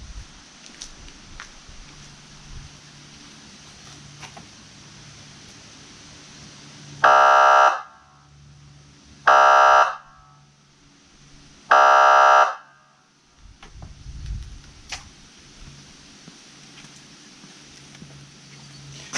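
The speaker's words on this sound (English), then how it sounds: "the police siren, police air horn, as you would have heard on, say, police motorcycles, police cars" Three loud, blaring police air horn blasts, as used on police motorcycles and cars, each about a second long, sound with short gaps between them over a quiet background.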